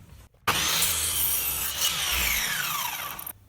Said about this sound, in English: I've got the mitre saw swung over to 45 degrees. It just remains to cut the angles.